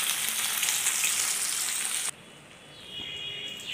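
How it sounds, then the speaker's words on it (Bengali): Pieces of fish fry in hot oil with a loud, dense crackling sizzle that abruptly drops to a quieter, steadier hiss partway through. "এখানে মাছগুলোকে ভেজে নিচ্ছি"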